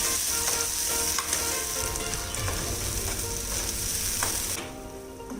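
Ground masala sizzling and frying in hot oil for Kolhapuri tambda-pandhra mutton rassa, a steady close crackle that runs throughout with occasional stirring clinks, easing off at the very end.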